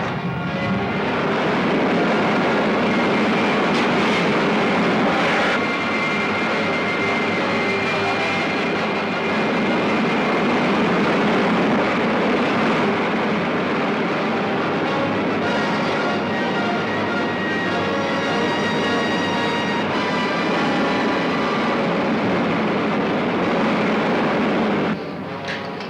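Rocket jet firing on Commando Cody's craft in an old serial, a loud, sustained roaring blast with broad hiss and rumble that holds steady for nearly the whole stretch before cutting off near the end.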